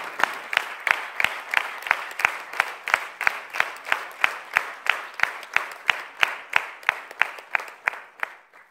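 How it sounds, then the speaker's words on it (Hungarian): Audience at the closing and awards ceremony of the second Komló amateur theatre festival clapping in unison, a steady, evenly spaced rhythmic beat of crisp claps that keeps pace for several seconds, then stops. "ez önmagában szerintem megér egy külön nagy tapsot"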